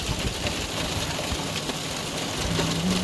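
Rain and hail drumming on an RV while boondocking in Colorado during an afternoon storm, a loud continuous patter and rush of drops striking the roof with no voices.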